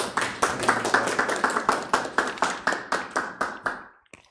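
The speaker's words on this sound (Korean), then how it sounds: "저희 김재현 저희 현 작가님께 큰 박수 다시 한번 부탁드리겠습니다" An audience at a talk claps together in a steady, even rhythm, about four claps a second, then the clapping tapers off and stops.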